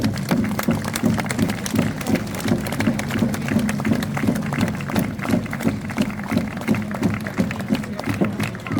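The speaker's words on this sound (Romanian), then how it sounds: "Ne aplaudăm!" A crowd applauds at an open-air theatre show in Romania, with steady dense clapping throughout that stays close and lively, and voices murmur faintly underneath.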